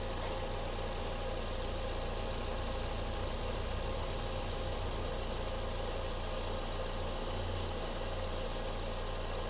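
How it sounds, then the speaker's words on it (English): Cooling fans whirring on a 2008 Honda CRV while the engine idles, a steady close engine hum with a continuous fan drone, no speech. "2008 Honda CRV cooling fans come on at 217 and kick off at 203."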